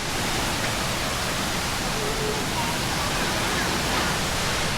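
Ton Sai Waterfall in Phuket, with water flowing over rocks, gives a steady, dense roar that is loud and close and never lets up.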